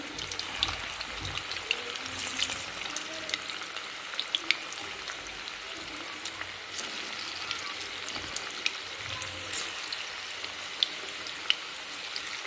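Cabbage manchurian balls fry in medium-hot oil, a steady soft sizzle and bubbling hiss running throughout with faint crackles, near and alone with no talk.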